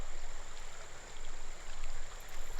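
Creek water flows steadily beside the bank in a continuous rushing burble that swells and eases in waves, close and fairly loud, with no voices.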